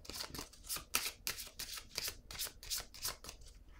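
Tarot cards being handled and shuffled by hand, giving a quick run of crisp riffling and sliding bursts in a steady rhythm, close and fairly quiet, with no talking over it.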